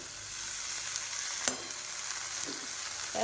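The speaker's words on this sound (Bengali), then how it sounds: "শাকটা দিয়ে দিলাম শাকটা নেড়ে চেড়ে" Leafy greens hitting a hot oiled frying pan and being stirred, a steady soft sizzle with a sharp clatter of the spatula midway and a couple of quieter scrapes later, close and with no voices.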